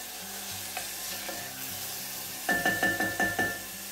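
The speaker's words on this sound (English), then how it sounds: "I'm just going to gently fry this for about 2 minutes" Finely chopped garlic and onions gently frying in a pan, a soft steady sizzle joined by a run of rhythmic scraping stirs toward the end, close and without talk.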